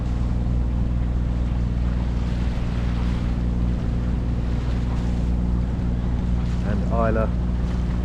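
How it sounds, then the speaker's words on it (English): Boat motoring along under engine power on a calm, windless sea off the Isle of Jura, a steady low engine drone throughout with water noise and brief speech near the end. "We're motoring along quite happily, plugging the tide so that we get to the Sound of Lung in time for the turn of the"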